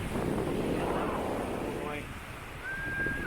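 Strong wind buffets the microphone along the Mediterranean coast on a motorcycle tour, a loud steady rush with a brief lull and a thin whistle near the end, and someone talks over it.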